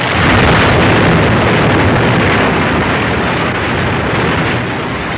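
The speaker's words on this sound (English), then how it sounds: "Japs bomb our command post." Bombs striking a Marine command post on Saipan in World War II newsreel footage, a dense, continuous roar of blast and rumble sustained at high loudness for several seconds with no clear gaps between explosions.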